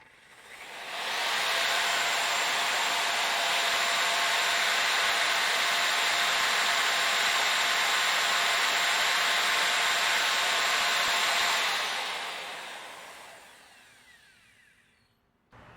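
A hair dryer on high heat, powered by a DaranEner NEO2000 LiFePO4 portable power station, blows a steady, loud whooshing roar for about ten seconds before it winds down and fades out.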